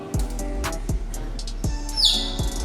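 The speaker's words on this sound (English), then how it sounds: "there's a cute little parrot in this restaurant here" Parrot named Sunny in a Madeira restaurant, a series of short chirps and squawks in irregular bursts, fairly close, ending with a higher whistling call over low room noise.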